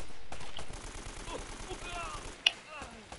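Gunfire in Uncharted: Drake's Fortune: a sharp single shot stands out late amid a busy game soundscape of rattling action and talk.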